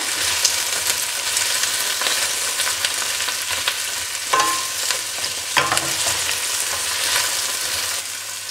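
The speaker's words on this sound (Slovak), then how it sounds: "Chvíľku ich orestujeme." Green beans sauté in a pan with a steady, close hiss of sizzling oil, broken by occasional clicks and scrapes of stirring, with no talk.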